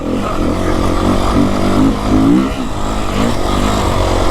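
A Beta 350 X-pro dirt bike engine drones loudly and steadily while climbing a rough uphill trail in the southern Arizona mountains, its pitch wavering as the throttle is worked.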